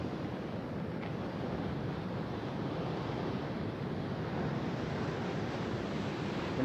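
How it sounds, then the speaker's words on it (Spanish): Steady, loud surf pounding the beach by the lighthouse at Villa Varadero in Nuevo Vallarta during Hurricane Willa, a continuous roar of breaking waves mixed with gusting wind buffeting the microphone, no voices. "Aquí usted puede apreciar el oleaje que se encuentra ahorita en estos momentos."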